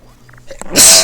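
A single loud, close sneeze: a short quiet intake, then a sharp, breathy burst that ends the moment, with no talking over it.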